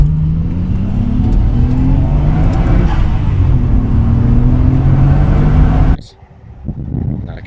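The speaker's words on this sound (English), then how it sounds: "But my god, the car drives beautifully." A Nissan Skyline GTR R33 drives along with a loud, steady engine drone and rising tones under road noise, then the sound drops sharply near the end as the car slows or the interior quiets.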